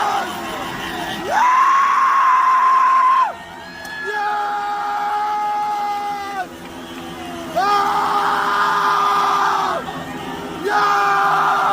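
Iranians yelling and whooping in a loud crowd, long sustained cries rising and falling in several surges, with voices and shouting layered throughout.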